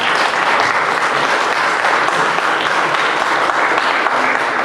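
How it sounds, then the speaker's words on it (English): Large audience clapping hands at an international cultural night gathering, a loud, even, continuous roar of applause filling the room without pause. "Somebody ought to clap their hands"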